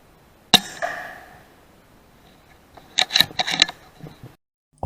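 A sharp air rifle crack is followed by a short decaying ring, then after a pause a rat thrashes on grain, a quick cluster of rustling scrabbling bursts, close and moderately loud.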